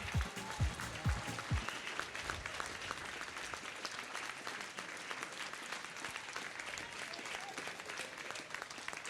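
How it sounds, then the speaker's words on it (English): An audience at a 2017 trainee graduation ceremony applauds in a long, even round of dense clapping, moderately distant, opening with a few low thumps and continuing steadily. "we have a big round of applause for them as well"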